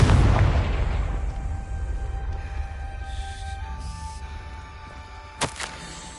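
A Confringo blasting spell explodes in Hogwarts Legacy, a loud booming blast at the start that rolls off into a long fading rumble, with a few softer thuds and pops near the end.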